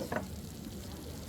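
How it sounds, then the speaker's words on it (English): Coq au vin in its serving dish gives off a faint, soft sizzle and bubble at a Montmartre restaurant table, with a brief clink or stir at the start and a low room murmur beneath. "That thing was bubbling and sizzling when she set it down."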